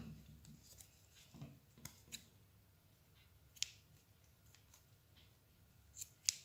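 Scissors snip through cotton thread while a friendship bracelet is being made, with a few sharp, separate clicks spread over a quiet background.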